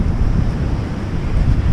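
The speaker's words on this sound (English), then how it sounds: "Looks like a big ocean out there" Ocean surf rolls and breaks along an open South Australian beach at Waitpinga, a steady loud wash of waves mixed with wind buffeting the microphone throughout.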